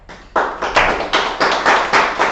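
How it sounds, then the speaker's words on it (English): A Grade 10 class claps for a debate team in a climate debate, delivering a series of distinct rhythmic group claps, roughly one every quarter second, close and fairly loud with no talking. "We will clap for the federal government clarity, position, and sustaining their arguments."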